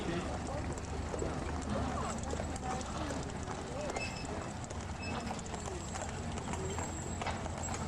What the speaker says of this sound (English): these horses are Percherons, not Clydesdales or Belgians